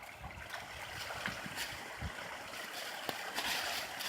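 Water rushes and gurgles through a small brook as it breaks past a dog that has been damming the flow, a soft, close splashing stream with scattered sloshes and no voices.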